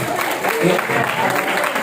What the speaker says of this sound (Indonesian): Oke, tepuk tangan ya.